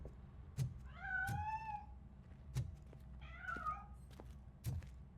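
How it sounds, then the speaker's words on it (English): A hidden cat meows twice, rising and falling cries from somewhere near a piano, between soft knocks and thumps indoors. "That cat must be hiding inside."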